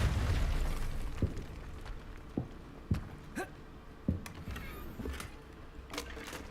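A Depulso spell cast in Hogwarts Legacy: a few sharp magical bursts and pops with echoing tails, spaced irregularly over a low rumbling game ambience.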